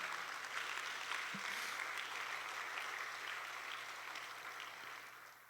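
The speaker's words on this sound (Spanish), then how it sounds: "Dele al Señor un aplauso" Faint applause from a church congregation during a sermon, a soft, diffuse patter of many hands clapping at a distance that slowly fades.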